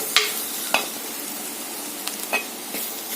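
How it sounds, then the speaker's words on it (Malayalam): Ground spices, including black pepper and fennel powder, are stirred in a hot pan over low heat for a Kerala egg roast, with a soft continuous sizzle and a few light clinks and scrapes from the spoon. "ഇതെല്ലാം കൂടെ നമുക്ക് നന്നായിട്ടൊന്ന് ഇളക്കി കൊടുക്കാം"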